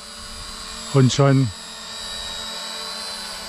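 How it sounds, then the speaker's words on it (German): A Maginon QC 800 SE Wifi quadcopter drone spins up and lifts off outdoors, its rotors giving a short, loud rising whine in two quick bursts that then drops to a faint hum, with someone speaking briefly. "ich kann auch mit dieser Einstellung die Drohne starten und einfach Gas geben, beherzt abheben"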